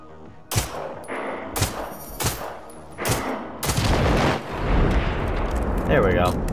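Loud gunshots in the video game Generation Zero, aimed at explosive objects, come as several separate blasts, followed by a denser stretch of heavy gunfire and rumbling explosions.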